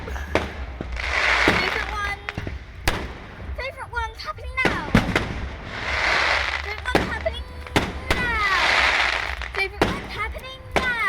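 A backyard fireworks display goes off with repeated sharp bangs and crackling bursts, including whistling rockets, heard at a moderate distance in a loud and busy stretch with people talking around it.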